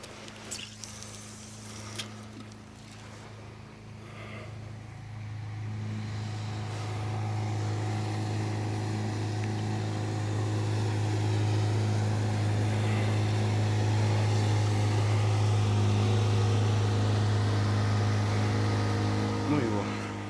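Outboard motor droning steadily on a forest river, rising after the first few seconds into a loud, continuous hum that holds to the end, with faint outdoor background and no speech.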